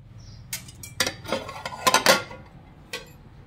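A lid set onto a pot of boiling rice for a special veg thali, heard as several sharp metallic clinks and taps in a short close-up burst, with a final single clink after a pause.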